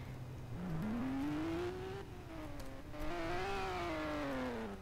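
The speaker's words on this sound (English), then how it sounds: "when you step on the accelerator, the car gets louder." Car engine in the Greenville video game droning faintly as it accelerates, the pitch climbing, dipping slightly and rising again over several seconds, steady and without talk.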